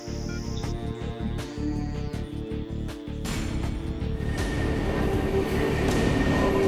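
A London commuter train rumbles loudly and continuously, with rhythmic clicking of wheels over rail joints and a metallic squeal building as it passes close by, no voices.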